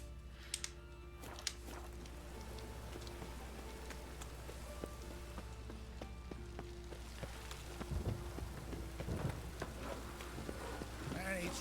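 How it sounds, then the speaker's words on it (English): Soft, steady video-game rainfall in The Witcher 3 hisses in the background with occasional hollow hoofbeat-like knocks and faint tones, a quiet, continuous ambient bed. "And it's raining again."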